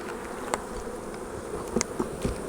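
Honey bees buzz steadily around an open beehive nuc, a close, continuous hum with a few louder bees passing near.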